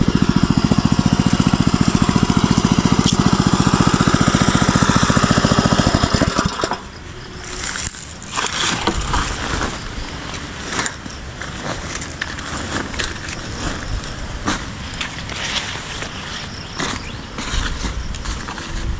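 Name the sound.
engine running on a farm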